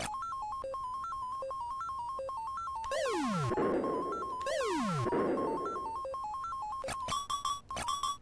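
Mono retro arcade game sounds from Xevious: a looping bleepy square-wave tune broken by two long descending laser-like sweeps with noisy bursts, then quick stuttering electronic blips.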